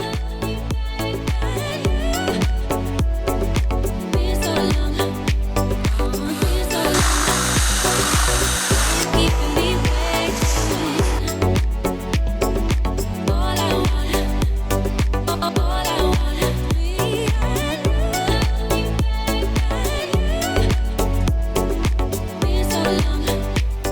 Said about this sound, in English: I'm going to have to drill a hole right around here so I can pass the cord through